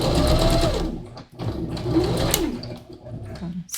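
Close and loud, a sewing machine stitches a round neckline on stretch fabric, whirring in bursts with brief pauses and changes in speed, no speech.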